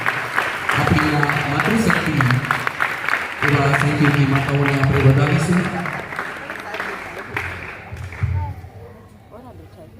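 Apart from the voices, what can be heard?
audience applause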